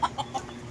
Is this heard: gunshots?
no